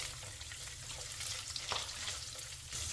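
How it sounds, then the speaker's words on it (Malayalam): Fennel, two or three dried red chillies and coconut pieces frying in oil, stirred in the pan: a soft crackling sizzle with occasional scraping and clinks, fairly quiet and continuous without speech. "ഇനി ഇത് നന്നായിട്ടൊന്ന് ഇളക്കി കൊടുക്കാം."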